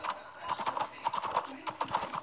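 Rapid, rhythmic hoofbeats of a galloping horse in the video game Six Guns, steady and close throughout, with someone talking over them.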